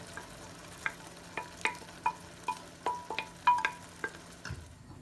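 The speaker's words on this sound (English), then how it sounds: "So I'm going to continue frying until it's well dried." Sharp sizzling crackles and scraping stirs as blended tomato and pepper fry in a pan for jollof rice, irregular clicks over a steady low hiss, close and moderately loud with no talking.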